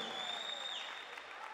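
A gospel concert audience gives a short burst of applause, with clapping under a sustained high instrumental tone that bends downward and fades.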